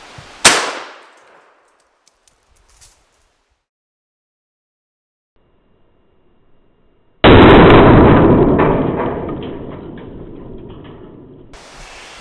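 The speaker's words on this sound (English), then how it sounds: "if you're shooting bowling balls with slugs" A shotgun slug is fired into a bowling ball: one sharp, loud blast, then near silence, then a second loud report that trails off into a long, slowly fading rumble.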